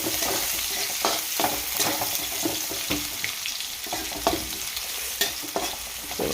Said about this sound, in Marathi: तर ती मिरची तर छानपैकी आता हे परतून घ्यायचं आहे